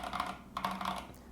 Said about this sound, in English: Typing experience is good.